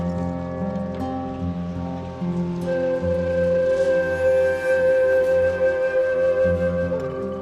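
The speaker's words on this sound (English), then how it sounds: "It's been raining since last night." Steady rain patters on a surface, a dense continuous hiss, with a low tonal hum running underneath and no voices.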